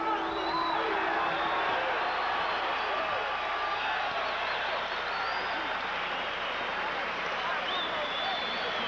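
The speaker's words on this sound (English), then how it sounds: "Crowd loves it." A crowd cheers at a pro boxing bout between Charlie "White Lightning" Brown and Louie Burke near the end of the ninth round, a steady, distant roar sustained throughout.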